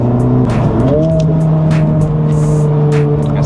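A Honda Civic Type R FL5 fitted with an AWE exhaust drives past up close, engine note rising sharply and holding a loud, raspy drone that briefly dips with gear changes.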